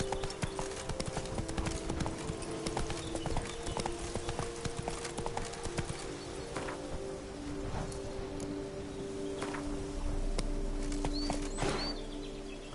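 Steady horse hooves clip-clop throughout a PS4 video game ride, a continuous rhythmic trot under game ambience with faint birdsong, growing slightly louder near the end.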